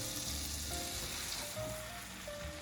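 Prawn toasts laid seed side down into melted, bubbling butter in a pan fry with a steady, close sizzle and crackle throughout, with no voices.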